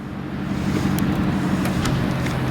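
A Cadillac XLR engine idles steadily with a low, even hum, while faint clicks and light mechanical sounds from the trunk opening break through.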